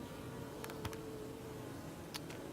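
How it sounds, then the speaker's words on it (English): A honeybee buzzes during a beehive inspection, a faint steady drone under a constant hiss of background noise, broken by a few small clicks. "the bee got out by itself"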